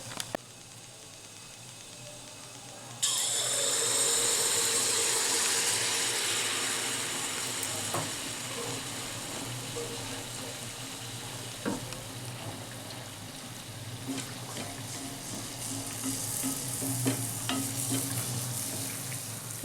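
Bengali-style pitha is fried in hot oil: after a few quiet seconds a loud, steady sizzle bursts in, then settles into a continuous hiss with scattered small pops and crackles.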